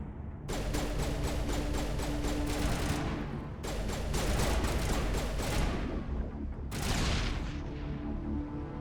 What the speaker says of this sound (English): Throw grenade, detonate it.